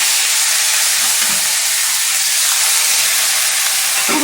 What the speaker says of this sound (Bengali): তারপর আমি পেঁয়াজ বাটা দিয়ে দিলাম।